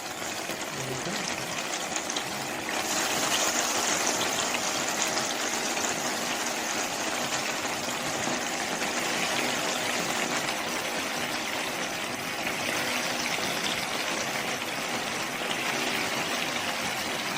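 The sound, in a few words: chicken drumsticks deep frying in hot oil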